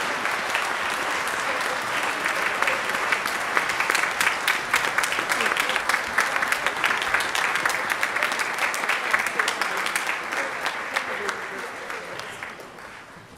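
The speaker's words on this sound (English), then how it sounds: "Round of applause for our first year letter award winners" Sustained applause from a crowd at a high school orchestra concert, many hands clapping for several seconds before gradually fading near the end.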